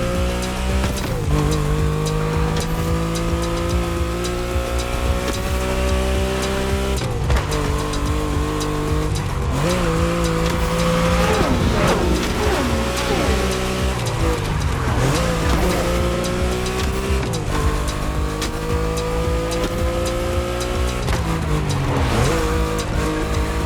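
A KTM 450 motorcycle races in The Crew Motorfest, its engine loud and continuous through gear shifts and rising, falling revs, with tire squeal and skids along the way.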